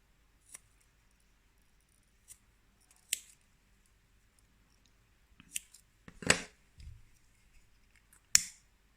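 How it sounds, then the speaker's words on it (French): Scissors snip loose threads off the side of a Buddha bag charm, a few sharp, isolated metallic clicks spaced out over near silence, close to the listener with small handling rustles between cuts. "on va pouvoir couper tous les fils qu'il y a sur le côté"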